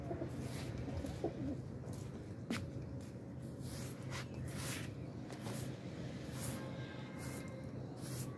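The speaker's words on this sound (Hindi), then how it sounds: "ये सारे ये तकरीबन 81 कबूतर हैं" A flock of about 81 racing pigeons cooing and rustling together outdoors, with soft repeated coos, occasional wing flutters and sharp clicks over a steady low background hum.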